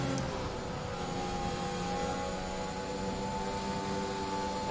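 A Formula 1 car engine in the F1 2021 video game, at the British race with a stuck-on ERS and a damaged engine, drones in a steady sustained whine with fixed harmonic tones and no talk.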